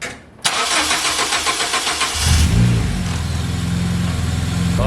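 A Honda Civic with a K24 engine cranks over and starts, then settles into a loud, steady idle close by, with a brief rev as it catches.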